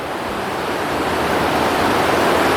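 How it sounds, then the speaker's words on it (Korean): A wide rural stream flowing steadily, a continuous broad rushing wash of water that holds at an even level for a few seconds. "이렇게 넓은 개울이 있어서 철렵할 수도 있고요"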